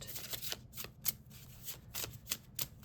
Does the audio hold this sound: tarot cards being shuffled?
yes